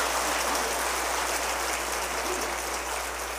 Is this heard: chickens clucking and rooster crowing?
no